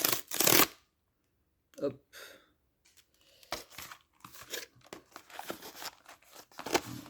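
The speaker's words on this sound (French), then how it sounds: "on va continuer l'ouverture des boosters, mais là on tape dans le gros display, donc on va ouvrir ça" A large trading card booster display box is opened, with a sharp burst of plastic wrap tearing, then crinkling, rustling and cardboard scraping in uneven bursts up close, and a brief spoken word.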